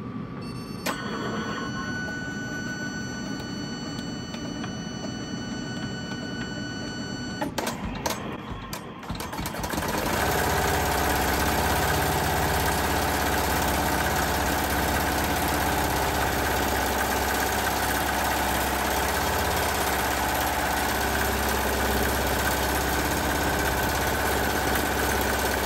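An embroidery machine stitching a purple thread outline hums and whirs steadily and up close, running loudly and continuously after a quieter, mixed opening.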